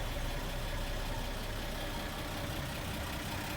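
A 1962 Chevrolet C10 pickup with a three-speed column manual idles steadily, a quiet, even low rumble held close and constant throughout with no voices.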